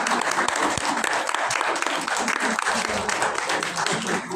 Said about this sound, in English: We can clap until he gets here.